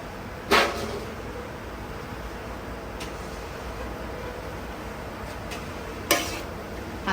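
Mixed vegetables for jap chai, cooked with pork and garlic, stir-fry in a pan with a low, steady sizzle. A few sharp spatula scrapes break through at intervals.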